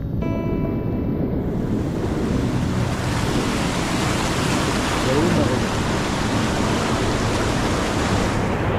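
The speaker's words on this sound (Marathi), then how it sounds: "जोरदार पाऊस चालू आहे आणि पाणी बघा." A flooded river in Konkan rushing hard during heavy rain, a steady, dense roar of churning water that fills the whole stretch at an even loudness, with no voices over it.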